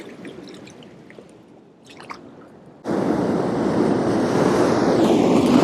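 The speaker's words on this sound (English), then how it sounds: "Some bigger sets of waves coming in now." Ocean waves break at rocky tide pools, with scattered drips and splashes first and then a loud, sustained crash and rush of surf that fills the rest, with no talk.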